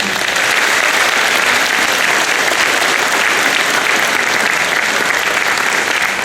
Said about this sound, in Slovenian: tako da za njih en poseben aplavz bi prosil